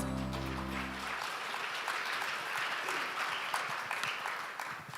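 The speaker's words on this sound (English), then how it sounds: "Let's give them a big, big round of applause." Sustained audience applause at the opening ceremony of an AI symposium, moderately loud and even, with a low hum fading out at the start.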